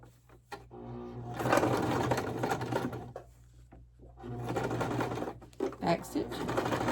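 A sewing machine back stitching a dish drying mat into a basket, two close bursts of rapid mechanical stitching whir separated by a short pause, with a person talking over it.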